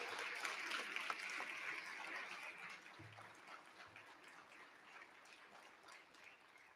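Audience applause for the senior finalists at a regional science and engineering fair, heard as a soft, distant patter of clapping that is strongest at first and gradually fades toward quiet.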